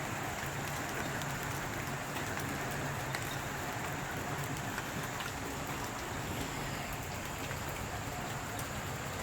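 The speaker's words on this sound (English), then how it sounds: "as you can hear and see, it's raining now" Steady, dense rain falling, a constant hiss of drops on surfaces with no pauses and no voices.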